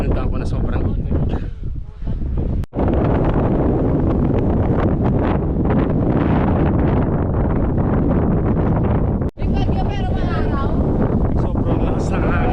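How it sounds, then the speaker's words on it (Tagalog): Strong, roaring wind buffets the microphone on the summit of Mt Tugew in Kayapa, Nueva Vizcaya, loud and continuous throughout, with a brief lull near the start. "Sobrang lakas ng hangin dito."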